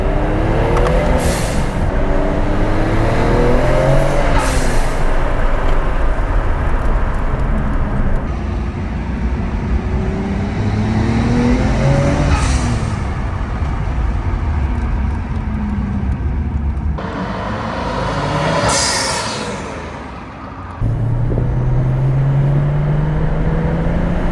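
A 1999 Tommy Kaira Skyline R34 GT-R RZ barn find's engine revs up and down repeatedly with a smooth, rising whine under steady loud rumble, the pitch climbing with each push of the throttle.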